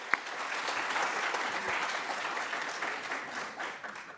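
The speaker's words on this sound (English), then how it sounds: "One more big round of applause for the graduates." An audience gives sustained applause for graduates at a DrPH commencement and hooding ceremony, a steady wash of clapping from a crowd across a large hall.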